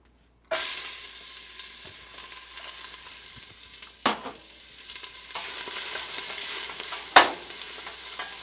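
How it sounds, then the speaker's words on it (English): One large chopped onion drops into two to three tablespoons of hot olive oil and breaks into a loud, continuous sizzle, with a couple of sharp scrapes and knocks as it is stirred in the pan. "I like to saute them for a couple minutes, soften them up a little bit."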